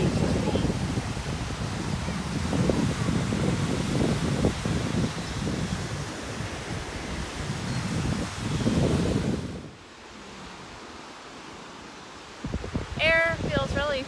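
Sea breeze buffets the microphone on a beach, with a steady roar of wind and surf that drops away near the end, where a brief voice is heard.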